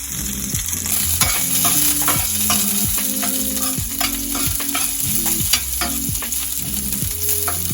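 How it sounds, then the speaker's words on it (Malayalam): Garlic, ginger, green chilli and shallots stirred in a pan for tomato chutney, heard as repeated scraping spatula strokes over a steady frying sizzle with a low tonal hum behind, close and fairly loud throughout. "ഗാർലിക്ക്, നമ്മുടെ ജിഞ്ചർ, ഗ്രീൻ ചില്ലി, ഷാലറ്റ് ഇതെല്ലാം ഇട്ട് കൊടുത്ത് നമുക്ക് ഇങ്ങനെ ഇളക്കാം."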